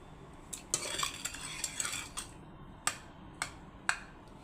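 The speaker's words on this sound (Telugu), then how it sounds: "కొంచెం ఈ టమాటో కూడా నలగడానికి కోసం ఒక్కసారి ఇట్లా ప్రెస్ చేస్తాను" Boiled chickpeas and tomato pressed in a metal pot with a utensil, giving a run of close scraping clinks and stirring knocks, then a few sharp isolated taps spaced out toward the end.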